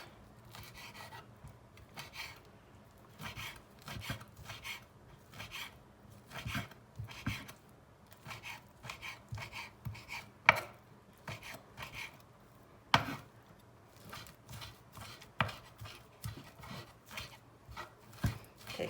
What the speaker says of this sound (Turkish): Bu şekilde ciğerlerimi doğramaya devam edeceğim.